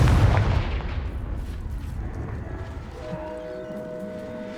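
Blasting spell in the video game Hogwarts Legacy, a loud booming impact at the start that decays into a rumbling tail with lingering effect noise.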